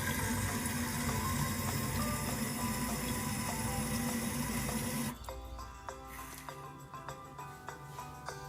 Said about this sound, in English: Like the other times, we fill up each container with water.